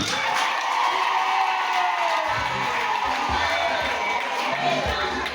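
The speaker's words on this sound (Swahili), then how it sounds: "Mwapigie makofi jamani." Wedding guests clap and cheer after the vows, a dense continuous wash of applause with whoops and shouts from a crowd close around, steady throughout.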